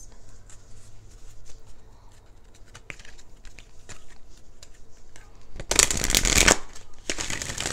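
A deck of cards, likely tarot, is shuffled in one short, loud, riffling burst near the end after a stretch of quiet rustling and small taps.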